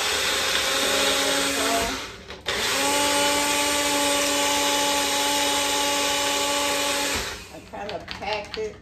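A blender making a green smoothie whirs loudly at a steady pitch, cuts out briefly, then runs again for several seconds before stopping with some clatter.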